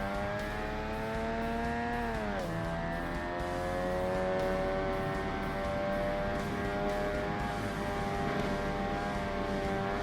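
A race car's engine drones steadily in Forza Motorsport on the Xbox during a front-engine rear-wheel-drive point-to-point hill climb on Fujimi Kaido, holding a loud sustained tone with one brief dip as it shifts gears, without talk.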